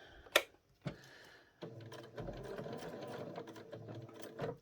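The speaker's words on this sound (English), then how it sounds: "you may just use your flywheel to go around once more to get one more stitch on" A home sewing machine stitches double-layered felt applique numbers. A couple of sharp clicks come first, then a steady close whirring run of rapid stitching continues to the end, fairly quiet and with no voices.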